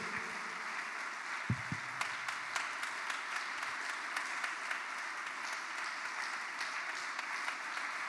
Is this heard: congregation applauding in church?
yes